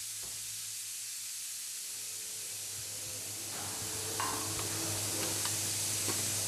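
Two hospital steam autoclaves hiss steadily as they sterilize dressings, a continuous loud rushing of steam with a low hum underneath and a few brief clicks and bursts toward the end.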